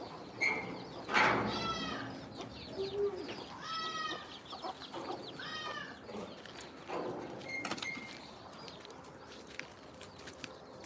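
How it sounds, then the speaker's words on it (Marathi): Birdlike clucking and short calls from chickens, including hens with chicks, come in scattered bursts, fairly close on a goat farm, with a few cooing notes and background rustle between them. "इथं कोंबड्याचं केलेलं आहे वरी कोंबडी बसले आणि खाली कोंबडी पिल्ले घेऊन बसले"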